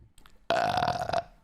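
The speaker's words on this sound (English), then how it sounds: "I can burp on command." A loud, sustained human burp produced on command, lasting under a second after a brief quiet lead-in, close to the mic.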